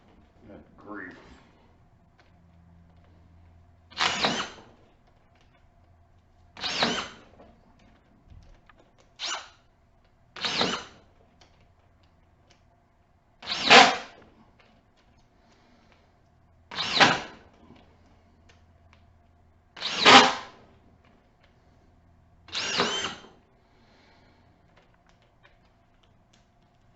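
A Ryobi cordless drywall screwgun drives coarse-threaded 1 1/8 inch drywall screws in eight separate short bursts spaced a few seconds apart, each a brief whirring buzz, with quiet gaps between.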